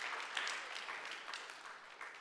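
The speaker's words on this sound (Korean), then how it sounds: "박수 쳐주시고요." A church congregation applauds during a Sunday sermon. The clapping is soft and continuous, a distant wash of many hands that stays level throughout.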